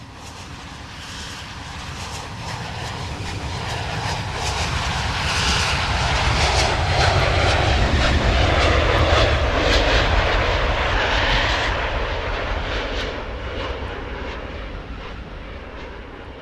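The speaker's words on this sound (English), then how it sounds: "I hear that plane." A propeller airplane passes overhead, its broad engine drone swelling to a peak midway, then fading slowly as it moves away, with no other sounds around it.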